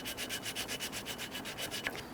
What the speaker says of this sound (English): Simply hold that and go ahead and sand that out.